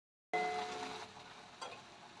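Onions fry in a pan over a raised gas flame, a sudden close sizzle that starts abruptly after a brief silence and then settles into a steady, softer hiss.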